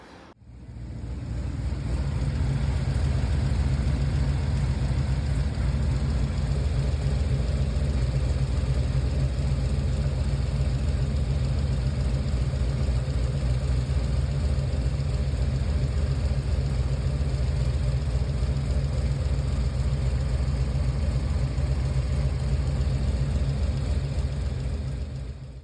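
A Chevrolet Nova engine idling while misfiring on only seven cylinders, a loud, steady low rumble with an uneven, lumpy pulse that starts up and holds for the whole stretch with no talk.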